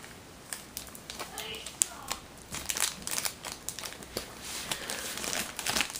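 Cardboard packaging for a Han Solo action figure is ripped and crushed by hand, with irregular crinkling, crackling tears coming in quick bursts, near and moderately loud, with a voice briefly present.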